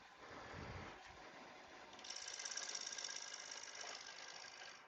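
Freshly sharpened bowl gouge cutting a cedar three-pointed bowl on a wood lathe: a steady, buzzing, chattery cutting noise that grows louder and brighter midway, heard up close with no talking.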